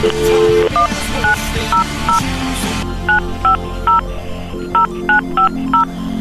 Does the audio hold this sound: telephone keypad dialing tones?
yes